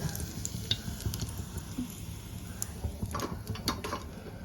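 Chicken pieces cut small for chicken 65 fry in a home kitchen pan, giving a steady, moderate sizzle with faint crackles and occasional ticks throughout, no voices over it.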